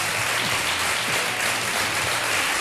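Studio audience applauding on a Spanish television show, a loud, dense and continuous roar of clapping from many hands with no talk over it.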